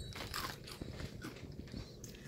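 Crunchy Barcel Fuego rolled tortilla snack bitten close up, giving a loud crisp crunch followed by a few smaller crackling chews.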